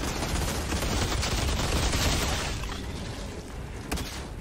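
Automatic weapons fire in the shooter game Outriders: a loud, continuous barrage of rapid gunshots with booming impacts that eases slightly toward the end, followed by one last sharp shot.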